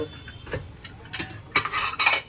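Metal utensils clink and scrape against a kadhai as oil is added for making chevdo from leftover rotlis, several light irregular clatters close by with no talk.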